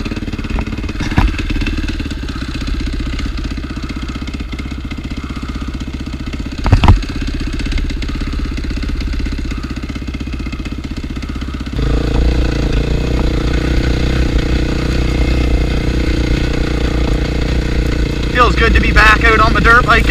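A 2003 KTM 450 SXF dirt bike engine runs in a backyard, idling steadily at first, then rising into a louder, fuller rumble about halfway through, with talk and a brief knock over it.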